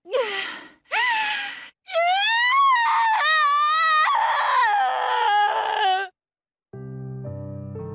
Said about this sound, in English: The broken headmistress gave a twisted scream and began tearing at her head.